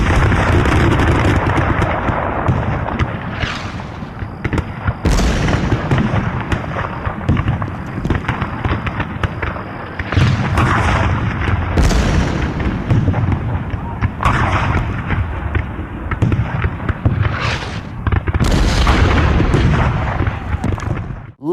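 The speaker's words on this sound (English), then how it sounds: "So the Confederates fired their cannons at the fort." Cannons fire in a battle reenactment of the attack on Fort Sumter, a series of loud booming blasts every few seconds over continuous rumbling, explosive noise.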